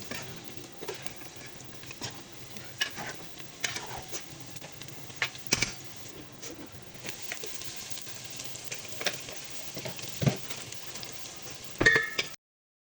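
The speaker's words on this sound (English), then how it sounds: "in a pot or pan add oil and chopped garlic and stir-fry it until it gets golden brown" Garlic chopped and stir-fried in hot oil in a pan sizzles and crackles steadily, with occasional sharp clicks of a utensil against the pan, continuous and close with no talking.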